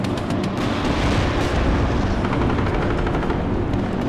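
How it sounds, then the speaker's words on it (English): In the war strategy game Warno, an attack helicopter's sustained rotor roar mixes with rapid machine-gun fire and scattered explosions, loud and steady throughout. "We just called in an attack helicopter."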